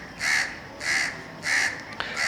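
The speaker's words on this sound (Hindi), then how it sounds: "मेरे बैकग्राउंड में आपको कौवे की आवाज़ आ रही होगी।" A crow caws four times in a steady rhythm, each call drawn out and harsh, sounding from a moderate distance outdoors with no other sound competing.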